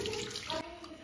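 Water runs steadily from a tap into a sink at home while hands are washed, a soft continuous splashing with faint talk in the background.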